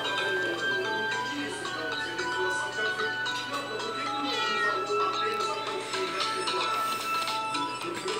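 A cat in the PK XD video game meows again and again in a steady stream of high calls, loud and close, while a person talks over them.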